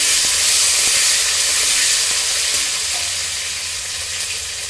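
Tomatoes dropped into hot oil spiced with panch phoron and bay leaf, hissing in a loud, steady sizzle that slowly fades, close to the pan.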